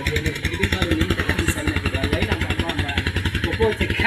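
A motorcycle engine idles close by with a steady, rapid, pulsing thump that stays even and loud throughout.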